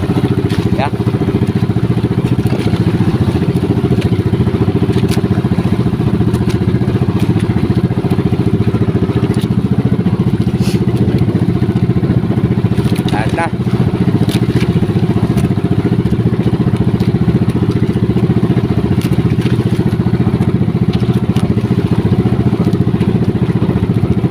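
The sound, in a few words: fishing boat engine running at sea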